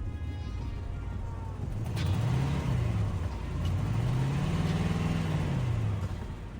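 A 1994 Chevrolet Caprice engine runs close by with a steady low rumble, its revs swelling and easing twice, and no talking.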